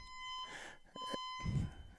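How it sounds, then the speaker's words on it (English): Fire alarm going off during a high school football coach's show, a steady high electronic tone sustained through the clip, with breathing and brief shuffling noises. "we got a fire alarm going off."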